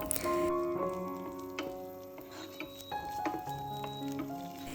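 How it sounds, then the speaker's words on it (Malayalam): Curry leaves frying in hot coconut oil, a quiet steady sizzle with faint crackles and pops, alone at close range. "വെളിച്ചെണ്ണയൊക്കെ ചൂടായി വരുമ്പോൾ നമുക്ക് കുറച്ച് കറിവേപ്പില ചേർത്തിട്ട് നന്നായിട്ടൊന്ന് മൂപ്പിച്ചെടുക്കാം"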